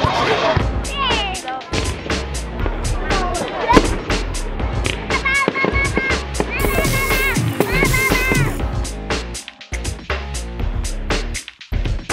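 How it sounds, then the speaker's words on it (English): Rapid crackling bursts and sharp bangs pop continuously, loud and dense, with whistling tones rising through the barrage. "That was one awesome firework display"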